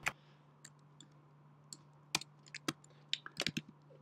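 Sharp, faint mouse clicks and light taps at a computer desk while working in a spreadsheet, scattered and irregular over a quiet hum.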